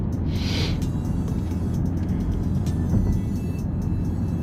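A Jeep SRT with a 700 HP engine pulls hard under acceleration, its loud, steady low roar filling the cabin and holding constant throughout.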